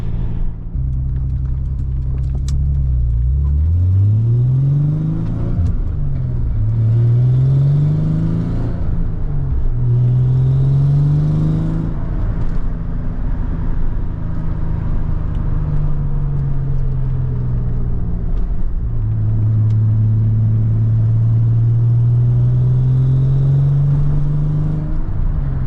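Nissan 300ZX twin turbo V6 of a little over 3 liters with oversized pistons, five-speed manual, upgraded intake, exhaust manifolds and full exhaust, droning loudly and steadily while driving, rising and falling through repeated revs and gear changes with no talk.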